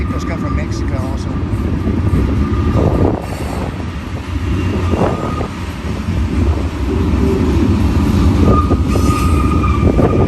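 A BNSF freight train rolls steadily through Sullivan's Curve near the old Cajon depot site, a loud, continuous rumble of wheels and rail cars with occasional squeal, while a person talks over it intermittently.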